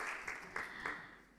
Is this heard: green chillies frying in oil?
no